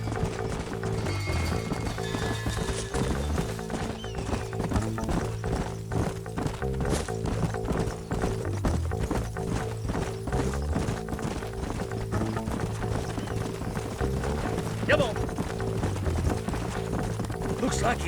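Horses gallop steadily in Red Dead Redemption, a continuous rhythmic clatter of hooves under game music, with someone briefly speaking over it.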